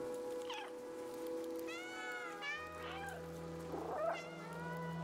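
A cat meows several times in the video game Stray, the cries rising and falling clearly over a steady low game hum, with a faint voice briefly under them.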